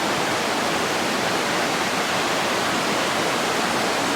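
A creek flows beneath a small bridge on a trail, producing a loud, constant broadband rush of water that stays steady throughout, close by and alone without talking.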